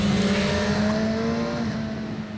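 A BMW S 1000 RR sport motorcycle, 192 hp and 196 kg, runs fast around a race circuit, its engine a loud, steady high-revving drone with slowly shifting pitch throughout.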